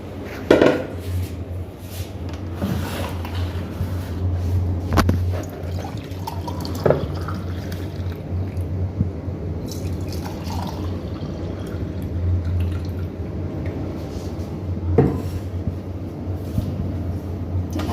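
Homemade summer juice poured from one vessel into a jug, a steady close liquid wash with occasional clinks of the container, alone with no talk.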